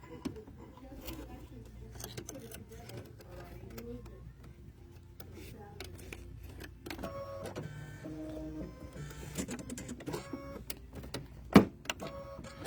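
An embroidery machine stitches a KimberBell applique, with quiet rapid mechanical whirring and ticking close by and talking in the background.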